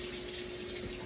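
Running water rinsing beans for a soup in a home kitchen, a steady continuous stream splashing without pause, close and fairly loud.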